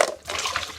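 Potato slices rinsed under running tap water in a kitchen sink, prepared for mashed potatoes, giving a short, steady splashing wash of water throughout.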